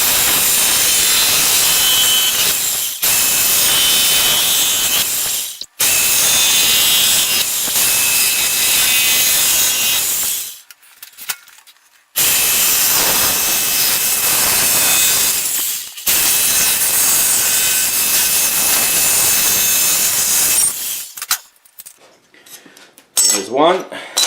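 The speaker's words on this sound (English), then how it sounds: "So I have the lines extended enough to be able to follow easily with the jigsaw guide there" A jigsaw cuts a sideplate for a ghost trap prop, loud and close, its harsh buzzing rasp running in long bursts with short pauses in between.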